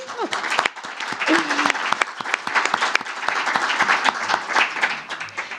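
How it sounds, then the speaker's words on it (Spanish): Lively audience applause at a conference after a staged performance, a dense stream of sharp individual claps that holds steady at close range for several seconds, with a brief voice near the start. "merece un aplauso, por favor"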